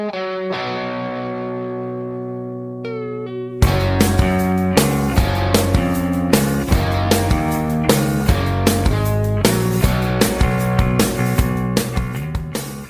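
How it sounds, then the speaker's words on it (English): A song plays, opening with a sustained guitar chord that fades before a driving band kicks in with distorted bass guitar, drums and guitar in a steady, loud rhythm. "the bass guitar tone here is absolutely ripping"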